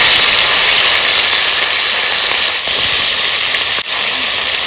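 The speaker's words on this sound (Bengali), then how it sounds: "তো কড়াই গরম হয়ে গেছে, সরষের তেল দিয়ে দেবো। তো মাছগুলো এবার দিয়ে দেবো।" Shrimp hit hot mustard oil in a kadai for a lemon prawn dish, producing a loud, continuous, close hiss of frying with two brief dips in intensity and no talking.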